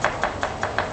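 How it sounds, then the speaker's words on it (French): A kitchen knife slices through an onion on a board, five quick, evenly spaced cuts, close and clear with no talk. "On émince l'oignon."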